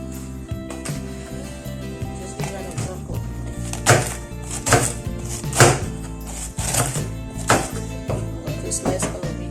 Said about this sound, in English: I'm going to slice the cabbages.